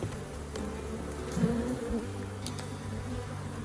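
Swarm of honey bees buzzing steadily at close range during a bee removal from a house, a dense continuous hum with a slight swell midway.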